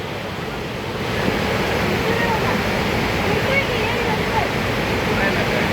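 Steady, loud rush of falling water at Amboli waterfall fills the scene, a broad continuous roar with wind buffeting the microphone.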